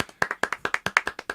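Sharp, evenly spaced hand claps, about a dozen in quick succession, from a small audience at a live nonprofit talk show acknowledging the technician; close and crisp with no talk.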